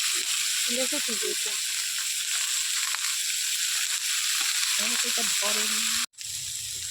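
Mixed vegetables sizzle and fry in a pan as they are stirred, a steady hiss beneath voices talking intermittently, with a brief cut near the end.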